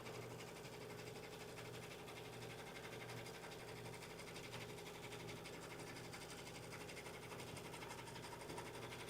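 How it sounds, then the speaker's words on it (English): A sewing machine stitches double fold bias binding onto a bag, giving a quiet, steady, even whir that runs without a break. "I'm just going to sew until I get over to the edge, and that's where I'll end it."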